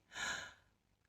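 A single soft inhalation during a pronunciation exercise for the TH sound, a brief airy breath lasting about half a second, close and quiet with no talking.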